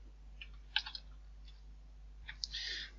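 Sparse keystrokes on a computer keyboard while entering router configuration commands: a few isolated quiet clicks, then a quick burst of typing near the end, with no talking.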